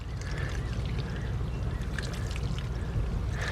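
Water poured steadily from a can onto freshly planted seeds in a container garden, a continuous soft splashing and trickling that soaks the soil, close and moderately loud with no talking.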